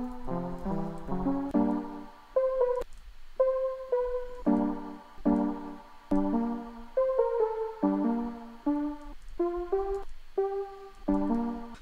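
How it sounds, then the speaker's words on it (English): The Red Roses electro bank sample plays back in Logic Pro X, a soft synth melody of short plucked notes in a steady looping rhythm, quiet and alone. "I found this electro bank here called Red Roses, and it sounds like this"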